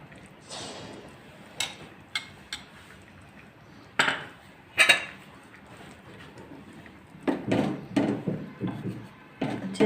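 A spoon mixing cooked chickpeas in a dish, scattered clinks and scrapes against the bowl in irregular bursts, close by, with a brief stretch of stirring toward the end.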